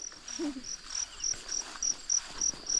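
Crickets chirp in rural countryside with steady, evenly spaced high pulses repeating throughout, fairly soft and close, with a brief low sound early on and no talk.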